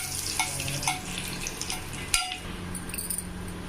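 Whole spices like cinnamon, cloves, star anise, cumin and bay leaf sizzle in hot oil in a pan, a steady crackling fry with occasional scrapes and a sharp clink of a stirring spoon.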